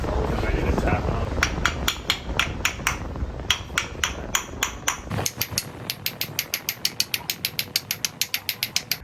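A hammer taps a crank seal into a Saab 900 engine, first in a loose burst of sharp metallic knocks, then in a fast, even series of close, ringing taps toward the end.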